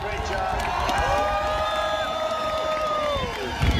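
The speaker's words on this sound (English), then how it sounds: "I love how they cheer this" A crowd at a political speech cheers and shouts in a broad continuous roar, with people speaking over it and a sharp jump in noise at the close.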